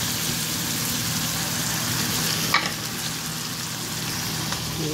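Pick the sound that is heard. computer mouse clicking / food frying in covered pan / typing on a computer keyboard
food frying in covered pan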